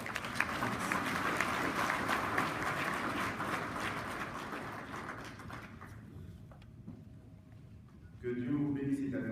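Dense audience applause fills a knighthood ceremony for the National Order of Burkina Faso, steady and loud for several seconds before thinning out, then a voice begins speaking.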